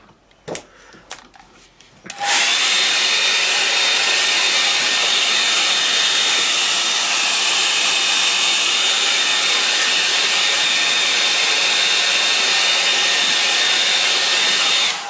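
A hair dryer switches on after a few faint handling knocks and blows with a steady loud whooshing hum and a thin whine, drying a wet watercolour painting of a snow scene, with no talking.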